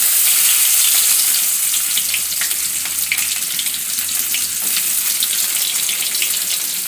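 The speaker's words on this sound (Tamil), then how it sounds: "வெங்காயத்தை நல்லா வதக்கி விட்டுட்டுருங்க." Onion fries steadily in a pan for Chettinad mutton gravy, a continuous close hiss and sizzle with faint stirring scrapes.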